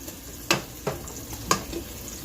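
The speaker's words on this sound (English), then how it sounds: "it's already starting to sizzle" Soft frying sizzle of shallot in a pan with a few light clinks of a utensil stirring, quiet and close.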